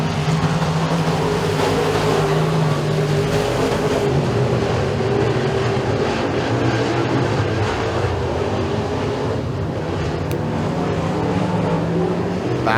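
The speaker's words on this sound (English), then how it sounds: "Connor's going to bring the 55C out of turn 4 and pick up heat race number 2 for the Kirksey Blues Pro Stocks" Pro Stock race cars roar out of turn 4 in a heat race at Eriez Speedway, a continuous loud engine drone with steady low rumble and no voices.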